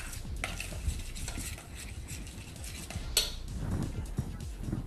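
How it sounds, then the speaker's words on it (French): Fresh cheese with garlic and herbs being stirred in a bowl, a soft, steady scraping and mixing with occasional light utensil clinks, fairly quiet and close with no talking. "on mélange bien les deux de façon à ce que la préparation soit bien homogène"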